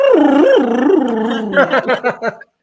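A dog gives a long, loud, wavering howl-like vocalization that turns into a rapid series of short barks and yips, close and alone, with no talking.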